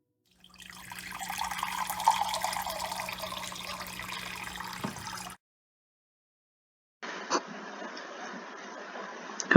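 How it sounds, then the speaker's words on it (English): Water streams out of a small hole in a bottle for about five seconds, a soft steady trickle, then stops; after a pause a second fainter pour begins, ending with a few sharp clicks. "measure the volumetric flow rate for the water coming out through the hole"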